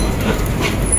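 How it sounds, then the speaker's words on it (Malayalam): Diesel locomotive of the Ooty toy train near Coonoor station, a loud, close, steady rumble of engine and rolling wagons, alone without voices. "ഇത് ഡീസൽ എഞ്ചിനാ കേട്ടോ."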